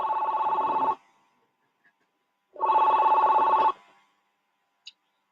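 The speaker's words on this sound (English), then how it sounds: "another call just came in" Telephone ringing with an incoming call during a phone conversation: two loud electronic ring bursts of about a second each, separated by a pause, close and clear, with no talk over them.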